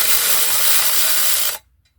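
A Craftsman power tool driving small screws on a 2009 Dodge Journey engine, a loud, steady, close-up burst of whirring and rattling that lasts about a second and a half and then cuts off sharply into near silence.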